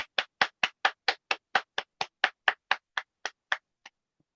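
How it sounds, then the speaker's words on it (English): A single person clapping about seventeen crisp, evenly paced claps that slow slightly and fade before stopping, heard close with silence between, in place of a round of applause for a child named Louis at a children's storytelling event. "Give Louis a round of applause, everybody"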